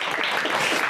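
A studio audience on a Gomel evening television show applauds in a dense, even burst of clapping that fills the whole short moment.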